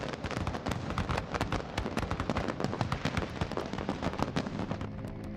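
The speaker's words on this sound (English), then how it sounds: "in the millennium with the magic of fireworks" Fireworks at the Eiffel Tower for the millennium celebration, a dense, continuous barrage of rapid crackling pops and bursts, many overlapping reports at a steady fast pace, loud and close.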